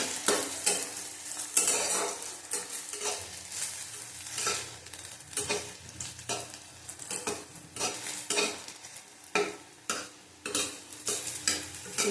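Eggplant with neem leaves and turmeric sizzles hard in a pan over high heat, punctuated by repeated scraping strokes of a spatula stirring, close and busy throughout.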